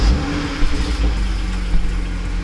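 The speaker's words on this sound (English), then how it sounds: "So now I'm gonna start the car up." A BMW with a manual clutch fires up, its engine catching with a couple of revving surges, then settling into a close, steady idle.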